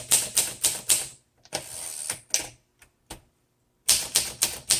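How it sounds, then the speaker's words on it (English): Typing on a 1956 Olympia SM3 manual typewriter: quick, rhythmic bursts of crisp keystrokes, a sparser, uneven middle stretch with isolated strikes, then another fast run of clacks, close and loud with no talk. "is a very good typing machine"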